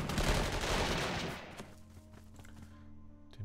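Artillery firing in the WWII strategy game Panzer Corps 2, a loud burst of rapid overlapping blasts that fades into a quieter rumble and ends with a single sharp shot.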